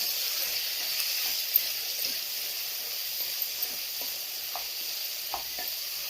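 Ginger-garlic paste frying with peanuts in a pan for ridge gourd curry, making a steady close hiss and sizzle with a few soft stirring taps, fairly quiet and no talking.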